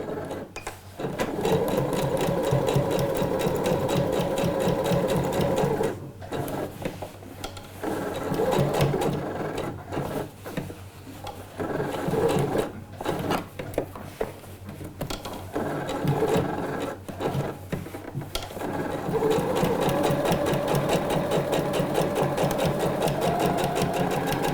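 A domestic sewing machine topstitching Alfie trousers, running in steady rapid bursts with short pauses between stitching runs, close and alone.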